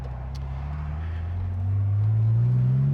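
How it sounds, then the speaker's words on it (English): A 1995 Porsche 993 Cabriolet engine with a Fabspeed exhaust rumbles low and then rises in pitch as it revs up, a steady throaty drone close by. "That beautiful Fab-Speed exhaust gives off a few little pops and crackles"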